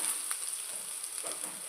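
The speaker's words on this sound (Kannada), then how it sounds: "ಈರುಳ್ಳಿ ಹಾಕ್ತಾ ಇದ್ದೇನೆ." Sliced onion sizzles in hot oil in a pan, a short burst of steady crackling hiss with a faint high whine and no talking.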